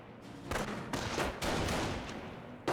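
Gunfire from Panzer Grenadiers in a Company of Heroes battle, a dense, continuous crackle of rifle and machine-gun shots with heavier bursts punching through, close and loud throughout.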